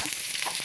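Small onions frying in a couple of teaspoons of coconut oil for a Kerala-style tempering, giving a steady close-up hiss and crackle of sizzling oil with no voices.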